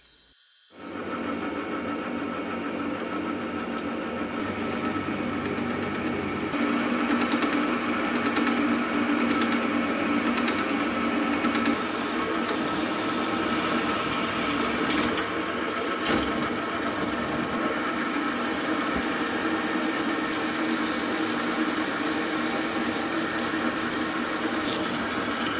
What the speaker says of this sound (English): I'll set it up in the milling machine to drill an 8mm through hole